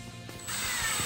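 A ratchet tightens bolts on a TV wall bracket fixed to a concrete or brick wall, giving a brief mechanical clicking burst followed by a steady whirring noise, close and fairly loud.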